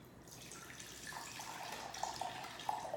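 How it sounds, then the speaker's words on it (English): Water runs steadily from a tap as soaked almonds are drained in a kitchen sink, a soft continuous splashing stream that builds slightly with a few brighter spatters toward the end, with no talking. "So I'm just gonna drain these almonds really quickly."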